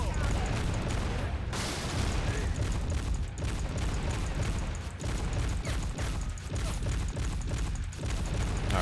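A 40mm sniper rifle in the Men of War: Assault Squad 2 war game fires without letup, producing a dense, loud barrage of overlapping booms and shots that barely pauses across the whole stretch.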